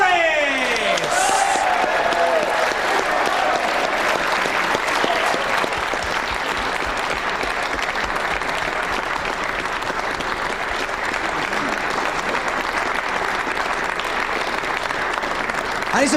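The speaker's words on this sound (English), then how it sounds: "A big round of applause for Carl Houdini Morris!" Audience at the 2006 World Pool Championship quarter final applauds a player's introduction, a dense, sustained wall of clapping that stays loud and even throughout, with a faint voice at the very start.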